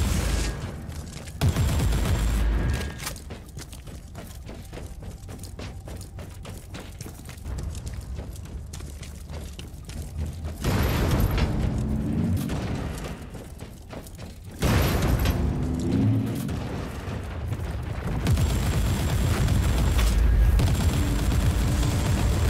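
Sniper gunfire from the video game Warhammer 40000: Inquisitor Martyr: sharp, repeated shots cracking out over a loud, busy battle soundscape that swells in heavy bursts and then eases back.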